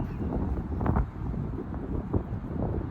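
Wind picking up outdoors, a low rumbling gusty buffeting against the microphone, steady throughout with a few stronger gusts.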